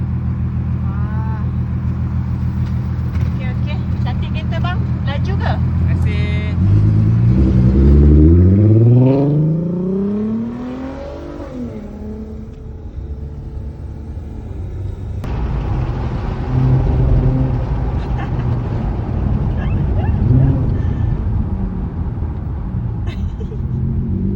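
A car engine revs hard as the car drives fast, with the pitch climbing sharply as it accelerates before settling into a rumble, and people talk over it.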